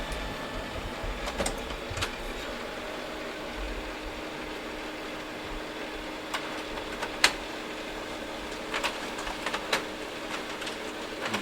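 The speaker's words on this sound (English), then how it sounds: "And now it's going to process the job and print it out momentarily." A Samsung CLP-680ND colour laser printer runs steadily as it prints pages, a continuous mechanical hum with faint intermittent clicks and rattles, close and alone.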